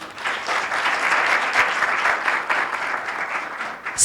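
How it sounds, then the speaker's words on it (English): An audience at a women-in-media mentoring event gives a big, loud round of applause, a dense, continuous clapping roar that holds steady for the whole stretch. "A big round of applause for her, please."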